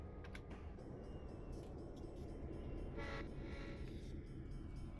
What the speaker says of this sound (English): that ain't my fault that the train started moving